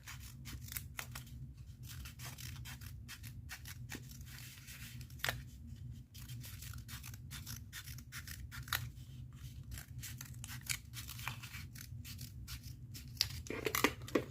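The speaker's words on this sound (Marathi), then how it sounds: "हा रोल आहे तो शेवटपर्यंत कापायचा आहे" Scissors cut a tissue paper roll into equal pieces all the way down, a faint series of repeated close snipping and crinkling sounds over a low steady hum.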